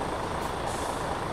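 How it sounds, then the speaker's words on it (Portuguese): A heavy truck in a Euro Truck Simulator-style video game unhitches its bitrain grain trailer, giving a steady loud rumble with a brief hiss of air in the middle. "eu vou desengatar a carreta aqui"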